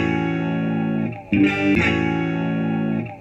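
Sustained electric guitar chord through a junction box with a phase switch, abruptly cut and changing tone midway as the switch is flipped, then ringing on with reverb before fading.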